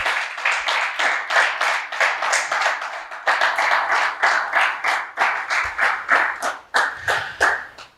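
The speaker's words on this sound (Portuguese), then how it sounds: "Uma salva de palmas ao Senhor." A church congregation gives a round of applause after a prayer, with steady rhythmic hand clapping that rises and falls in waves for several seconds, close and fairly loud with no voices over it.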